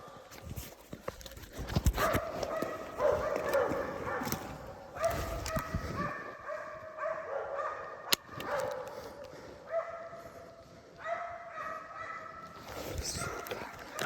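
Hunting dogs barking as they chase a large wild boar, bursts of baying mixed with hoofbeat-like thuds and someone talking over the noise outdoors.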